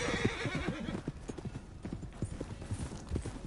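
Faint, quick clip-clop of horse hooves trotting at a steady rhythm, soft and somewhat distant, in the video game Red Dead Redemption 2.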